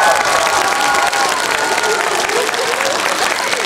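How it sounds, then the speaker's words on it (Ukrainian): An audience at a dance studio's year-end recital claps generously, a dense, steady wash of applause with some cheering mixed in. "а відвідувачі свята щедро нагороджували їх оплесками"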